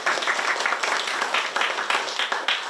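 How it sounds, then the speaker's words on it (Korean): A room full of people at an academic political-thought society debate applauds a speaker's introduction, steady scattered clapping throughout. "박수로 맞아주십시오."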